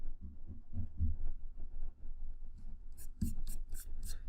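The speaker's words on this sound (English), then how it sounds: "we want to go ahead and erase away our vanishing point lines" An eraser rubs away pencil guide lines on a paper drawing, making a soft steady scrubbing under low room noise, then ending in a quick run of brisk, brighter back-and-forth strokes.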